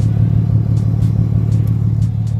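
A 2008 Ford Mustang fitted with a mid-muffler exhaust idles with a steady, loud low rumble throughout, with faint higher clicks and ticks scattered over the top and no one talking.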